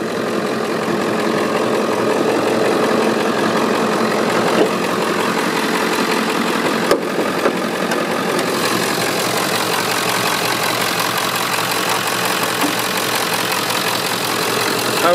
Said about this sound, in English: Power stroke, turbo diesel. We'll just let you hear it rev it up.